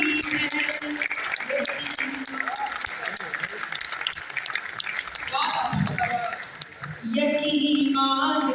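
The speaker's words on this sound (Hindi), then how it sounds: "तुम्हारी तालियां, यकीन मानो तुम्हारी तालियां हिम्मत बढ़ाती हैं।" Audience applause at a Hindi poetry recital in Lucknow, a steady crowd clapping that carries through the whole stretch, swelling again near the end, with voices and some cheering mixed in over it.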